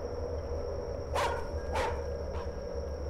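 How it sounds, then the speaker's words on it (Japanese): A dog in a horror video game gives three sharp barks spaced about half a second apart, the last one fainter, over a steady hum of game ambience with no talking. "犬声でか、めちゃめちゃ声でかかったな"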